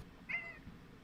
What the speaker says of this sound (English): Don't meow me